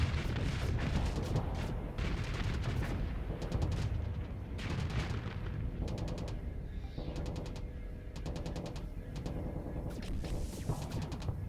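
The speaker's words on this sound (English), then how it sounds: "Last set of torpedoes, hopefully we'll take it out." Torpedoes fire in a Starsector space battle, a dense dull rumble of booms and rattling bursts that stays loud and busy throughout.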